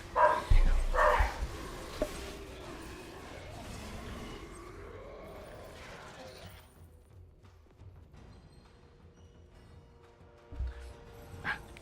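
Pet dogs barking at someone arriving at the house, a few loud barks and yips early, then fading to softer whimpers with a last brief bark near the end.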